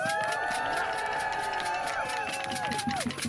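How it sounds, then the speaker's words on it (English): Crowd at a London street rally calling for an end to the war in Sudan cheers and whoops loudly and continuously, with shrill whistles and high yelling voices rising over a dense roar throughout. "round of applause for everyone showing up. Make some noise for yourselves."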